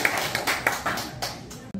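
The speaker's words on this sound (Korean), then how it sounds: "박수 부탁드립니다" Applause rises at a Korean family clan general meeting, a short patter of hand claps heard briefly indoors before it cuts off abruptly.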